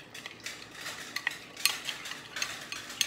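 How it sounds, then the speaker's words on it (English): Garlic is stirred into a honey glaze sauce for salmon, a spoon scraping and tapping against the pan in quick irregular clinks over a faint background hiss, quiet and close. "And just stir it all in there."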